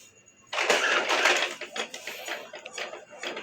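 An Epson L120 inkjet printer whirs and clatters mechanically printing a test page for a few seconds after a brief quiet start, with rhythmic feed and print-head noises tapering off.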